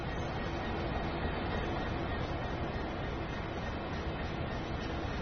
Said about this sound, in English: I hear it. I hear the freight train.